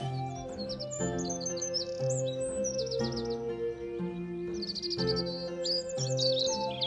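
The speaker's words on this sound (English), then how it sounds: "You can hear the birds singing" Birds sing and chirp in bright, high trills, heard alongside a soft sustained melodic tone underneath.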